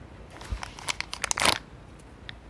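Crinkly plastic packaging being torn and crumpled open by hand, a cluster of sharp crackles and rustles peaking mid-way, close and fairly quiet, with no talking.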